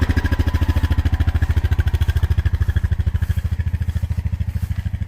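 A four-wheeler ATV engine running close by, with a rapid, even low-pitched putter that holds steady throughout with no talk.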